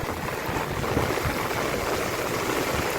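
Rainwater rushes through a flooded residential street like a river during a heavy downpour. A steady, loud, broad wash of flowing water and rain roars on without a break, with no voices.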